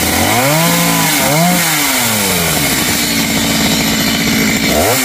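A chainsaw cutting a large conch tree near three-phase power lines, the engine loud and close, revving up and down in bursts before settling into a steady labouring whine.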